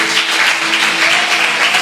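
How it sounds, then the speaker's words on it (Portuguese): A church congregation claps loudly during an evening worship service, a dense, close, steady burst of applause with no voices over it. "Será que você pode aplaudir Ele nesta noite?"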